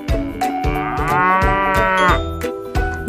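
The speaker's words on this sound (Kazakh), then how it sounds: "Сиыр." A cow lets out a single long, loud moo, close and clear, with no other voices around it.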